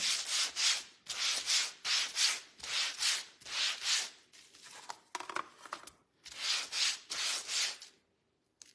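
Sandpaper rubbed back and forth across a wooden sign, a close rhythmic run of rasping strokes, a brief scuffing break, then more strokes ending in silence.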